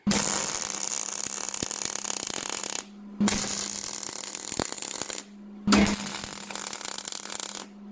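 Arc welding a bolt onto the handle of a cheap Harbor Freight bench vise: three steady crackling, hissing bursts of a few seconds each, separated by short pauses, close and fairly loud with no talk.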